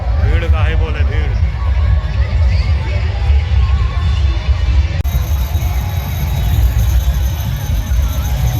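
A crowd fills a picnic spot near Torpa waterfall with constant babble, close voices talking over the hubbub of many people and rushing background noise.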